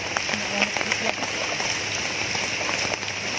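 Steady rain patters on a surface, with scattered drips and a faint voice now and then underneath.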